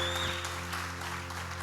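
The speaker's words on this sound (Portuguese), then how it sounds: "Vamos aplaudir, essa palavra é para você." Applause from a church congregation, a steady broadband clatter of many hands throughout, with low sustained organ or keyboard tones underneath.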